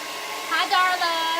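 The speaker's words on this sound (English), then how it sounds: "let's hit it with the hairdryer" A hair dryer's steady airy whir runs through, rising louder partway and holding a constant blowing hiss to the end.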